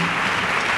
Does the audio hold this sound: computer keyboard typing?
no